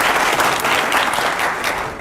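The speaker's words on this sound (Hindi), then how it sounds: "जोरदार तालियां हो जाए पहले तो" A studio audience at a television news debate applauds loudly and continuously, a dense close burst of clapping lasting a couple of seconds.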